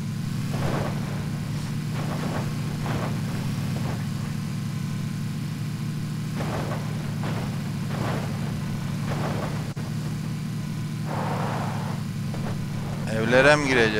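A continuous low car engine drone in PlayerUnknown's Battlegrounds hums throughout, steady and fairly loud, with faint intermittent clicks and noises over it.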